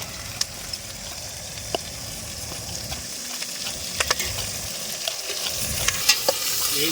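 Tamarind chutney stirred while it cooks in a clay pot, giving a continuous bubbling sizzle broken by scattered sharp ticks and scrapes of the stirring utensil.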